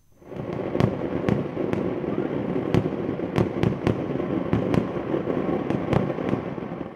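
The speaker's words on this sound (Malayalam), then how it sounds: "ശബ്ദ നിയന്ത്രണത്തോടെ തൃശൂർ പൂരത്തിന്റെ സാമ്പിൾ വെടിക്കെട്ട്" Sound-limited sample fireworks for Thrissur Pooram, set off by the Thiruvambadi group, boom in rapid succession, sharp loud bangs at uneven intervals over a continuous crackling rumble, with no voices.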